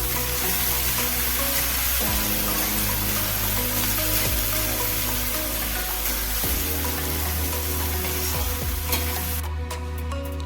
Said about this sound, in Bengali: এরপরে কাটা পেঁয়াজগুলো দিয়ে দেবো আর কিছুটা লঙ্কা দিয়ে দেবো। এইগুলো ভালো করে ভেজে নেব।